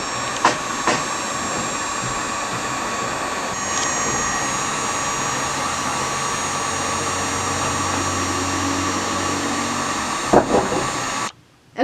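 A heat tool blasts steadily for a wood-burning craft project, a loud continuous whooshing blower roar with a few brief clicks, cutting off abruptly near the end.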